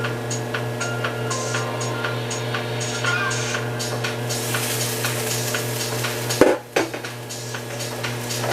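Chicken fried rice sizzles steadily in a pan, a continuous frying hiss with scattered utensil scrapes and clinks, and a sharp knock of metal near the end.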